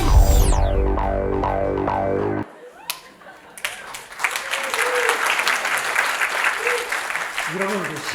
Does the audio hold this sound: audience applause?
yes